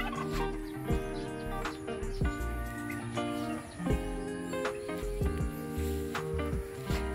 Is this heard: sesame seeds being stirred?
no